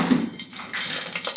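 Curry leaves and a bay leaf dropped into hot oil for chicken biryani, giving a steady close hiss and crackle of frying with no voices.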